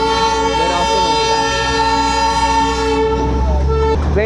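Darjeeling toy train running on its narrow-gauge mountain line, its horn blaring loud and close in a long sustained blast that shifts pitch near the end, over the rumble of the moving carriages.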